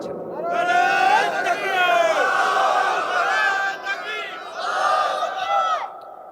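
A crowd at an Islamic sermon chants slogans in unison, loud and close, in swelling call-like phrases with a short pause near the middle before a final burst.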